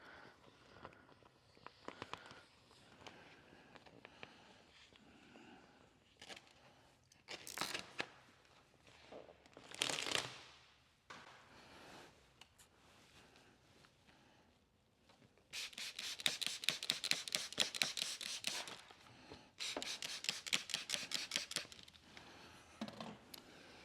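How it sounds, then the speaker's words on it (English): Excess Suntek matte paint protection film being cut away while wrapping a Ford F-150, with scattered snips and rustling early, then dense bursts of crisp cutting and tearing noise in the second half. "I'm going to cut a bunch of this excess film off"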